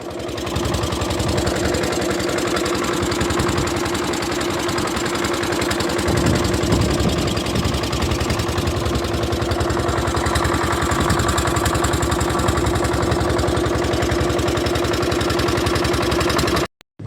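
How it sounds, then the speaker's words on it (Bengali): A fishing boat's engine chugs steadily as the boat heads out onto a big river in the Sundarbans, a loud, continuous close-up drone with a rhythmic clatter and no speech over it. "আমরা নৌকা স্টার্ট দিয়ে দিয়েছি আর আমরা বেরিয়ে যাচ্ছি সোজা বড় নদীতে"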